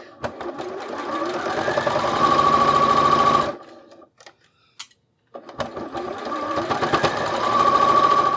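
A Burnett B38 sewing machine stitches a foundation paper quilt block, running in a loud, steady whirring rhythm up close, stopping briefly for a few quiet clicks, then starting up and running again.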